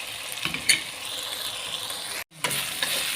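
Eggplant with chili sizzles steadily in a frying pan for a Betawi dish, with a few scraping stirs of a spatula and a brief drop-out near the end.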